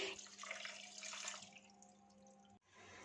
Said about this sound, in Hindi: इसमें 2 कप ठंडा पानी मिक्स कर देंगे।